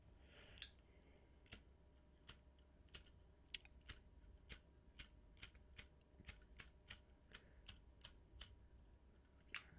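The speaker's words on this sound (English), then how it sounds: "Look at this cool fucking lighter." A grandfather's old lighter clicked again and again without catching, a string of crisp, evenly spaced clicks, quiet and close, roughly one or two every second.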